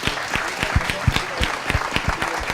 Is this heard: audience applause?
yes